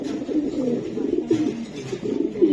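Racing pigeons coo in low, repeated murmuring phrases, close by and fairly steady, with faint movement in the background and no talking.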